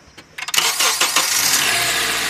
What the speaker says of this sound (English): Just start her up and let it run for a little bit, so that way it cycles the engine oil.